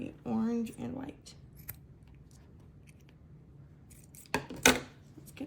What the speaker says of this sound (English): We're going to cut off the orange and white.